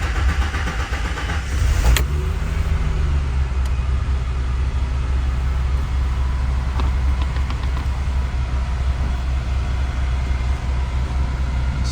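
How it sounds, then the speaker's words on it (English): A 1989 Ford Thunderbird Super Coupe, fuel injected, cranks over on a cold start with a brief sharp burst, then settles into a steady, low, continuous idle rumble close by. "I'm going to go ahead and fire this awesome Super Coupe up."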